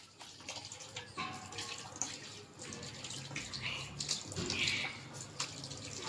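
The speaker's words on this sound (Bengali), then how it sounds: "আমরা দাঁত মাজতেছি" A tap runs steadily into a sink at home while teeth are brushed and faces washed, a close, constant splash of water with small surges.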